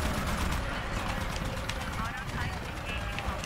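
Rapid automated turret gunfire from the Titanfall video game, Frontier Defense mode in Angel City, rattles continuously under a dense layer of game noise, with a voice speaking over it.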